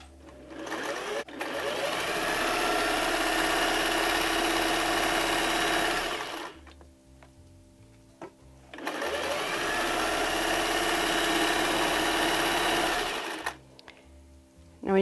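A sewing machine stitching a toddler apron: two long runs of steady, close mechanical whirring of about five seconds each, separated by a quiet gap with small handling clicks, and no talking.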